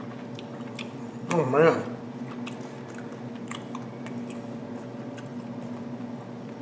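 Someone chews juicy lobster up close, with a short burst of wet, squishy biting and a murmured voice over quiet background hum.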